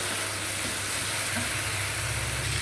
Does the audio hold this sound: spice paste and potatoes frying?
yes